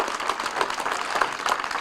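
Audience at a Taylor Elementary school ribbon cutting ceremony applauds, a short burst of many hands clapping together, fairly close and continuous over under two seconds.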